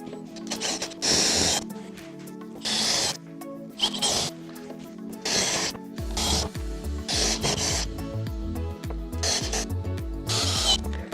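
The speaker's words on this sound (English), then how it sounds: "So let's get ready to drill some holes." A power drill with 5/16 and 3/8 inch bits whirs in repeated bursts, grinding through material for T-nuts on a Jeep storage platform between short pauses, with some low mechanical clatter.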